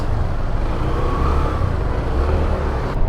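A Suzuki Burgman Street 125 scooter hums along through city traffic in Davao City, a steady low engine and road rumble with surrounding vehicles close by, no voices.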